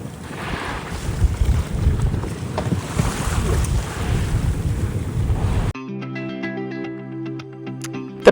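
A whale watching boat cruising the sea off Ísafjörður, Iceland, with steady engine rumble, rushing water and heavy wind buffeting the microphone, giving way near the end to a sharper tonal drone.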